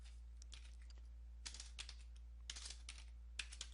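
Close computer keyboard typing in quick irregular clusters of clicks as a command is entered to fix a Toshiba boot loop, under a low steady hum, with no voice.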